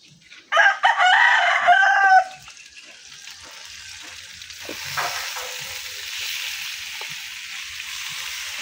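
Loud sizzle and crackle as native chicken pieces hit hot oil in a pan for tinola, settling into a quieter steady frying hiss that continues for several seconds.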